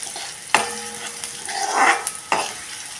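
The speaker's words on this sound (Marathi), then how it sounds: "आता टाकलेला आहे बारीक केलेला कांदा। कांदा थोडासा मऊ होईपर्यंत परतून घ्यायचा आहे।" Finely chopped onion sautés in a pan for a bitter gourd stir-fry, giving a soft, steady sizzle broken by a few sharp scraping strokes of a spoon, close and moderately loud.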